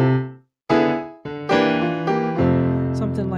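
A traditional gospel cadence in F played on a keyboard: a sustained chord fades, then several rich full chords are struck in succession and allowed to ring, close and loud with no talking.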